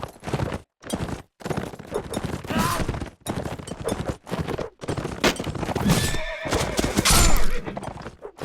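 A horse neighs and whinnies amid a chaotic video game battle, with hoofbeat clip-clops, clashing and distant gunfire-like bursts around it, loud and busy throughout.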